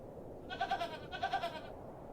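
A goat in the video game Hob's Barrow lets out two loud, close bleats in quick succession, standing alone against a quiet background.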